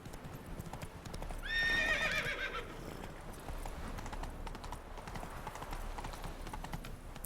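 Roach, a horse in the video game The Witcher 3, gives a clear whinny over steady hoofbeat clip-clops, set in quiet in-game ambience.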